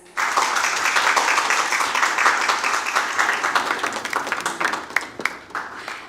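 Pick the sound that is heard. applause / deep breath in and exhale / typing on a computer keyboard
applause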